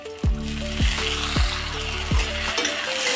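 Boiled jackfruit seeds sizzle in hot mustard oil with onion and black cumin, a loud continuous frying hiss close by, broken by a few heavy periodic thumps of stirring.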